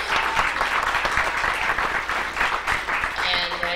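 A small fundraiser audience claps for a photographer, a brief burst of dense applause that runs under a continuing voice throughout.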